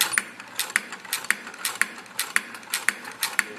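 A hand crank on a soil-testing device turns at a steady pace of about two revolutions per second, its counter ticking in a regular series of crisp mechanical clicks, close by with no talk.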